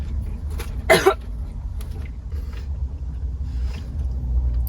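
A woman coughs sharply after choking inside a car, a short burst of harsh coughs over the low rumble of the vehicle, followed by faint throat sounds.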